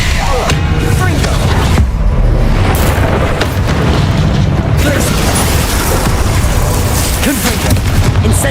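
Repeated Confringo fire-spell blasts in Hogwarts Legacy, a continuous barrage of loud booming explosions and bursts, with a voice calling out spell names over the din.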